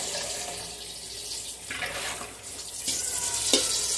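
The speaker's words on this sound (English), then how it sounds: "I'm going to dump this water, rinse my bowl out." Tap water runs into a kitchen sink while a bowl is rinsed after preparing tomatoes for canning, a steady nearby splashing hiss that shifts and swells as the bowl moves under the stream.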